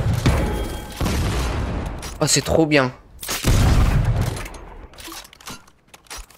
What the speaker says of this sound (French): Oh, c'est un canon. C'est le canon de la saison 8.